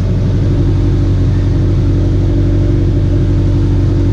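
A 2000-2005 Toyota Celica engine, not yet at normal temperature, held at about 2500 rpm while bleeding the coolant, a continuous low droning rumble close by with no voices.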